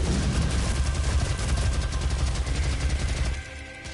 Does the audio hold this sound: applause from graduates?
no